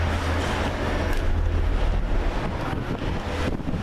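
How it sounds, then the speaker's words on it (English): Strong wind rushing past a Disney Skyliner gondola cabin over Caribbean Beach in Orlando, a constant loud roar of microphone buffeting with deep rumble throughout and no voices. "It's really windy right now."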